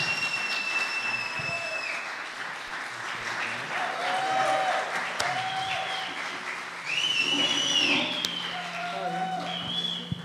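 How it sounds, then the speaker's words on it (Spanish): An audience applauds as a rock band enters a live radio session, steady clapping and crowd noise with high squealing feedback-like tones and voices over it. "Ahora ingresan, fuerte el aplauso"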